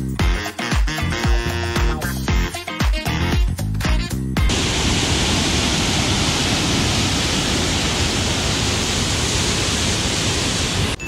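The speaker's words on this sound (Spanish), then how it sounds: "De este lado ya inicia la cascada, miren." A waterfall at Baños de Agua Santa, Ecuador, roars as a loud, constant broadband rush that sets in abruptly after several seconds of choppy noise and keeps on unbroken.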